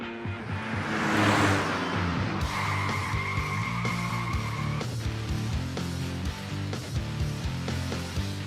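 A car skids on a driver training skid control course, tires squealing loudly for several seconds with engine noise underneath, mixed with a steady background of music.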